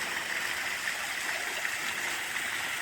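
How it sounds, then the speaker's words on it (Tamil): Fairy Falls, a small waterfall of about twenty-five feet in Kodaikanal, gives a steady soft rush of falling water that stays constant and moderately distant, with no voices over it. "அமைதியாக அமைதியாக இருக்கிற ஃபால்ஸ் நம்ம ஃபேரி ஃபால்ஸ்"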